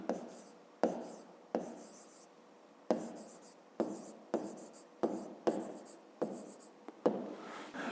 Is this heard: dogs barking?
no